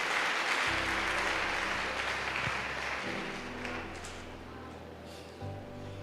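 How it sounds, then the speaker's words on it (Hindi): Congregation applause in a church service, broad clapping that swells early and gradually thins, with a low sustained organ or keyboard tone and hum running underneath. "जोरदार ताली इस बहन के लिए बजा दें।"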